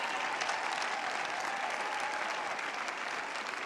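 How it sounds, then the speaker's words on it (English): A tennis crowd applauds tennis player Milos Raonic after his match against Ernests Gulbis, steady and even clapping heard at some distance, fairly soft, with no voices over it. "Big round of applause for Milos Raonic."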